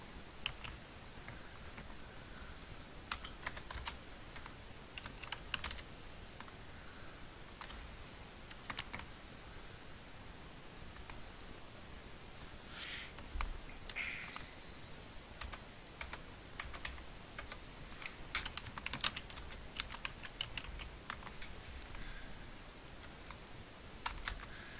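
A password is typed on a computer keyboard at a parts store login, with faint, scattered key clicks coming in short irregular runs over a quiet room background, with no talking.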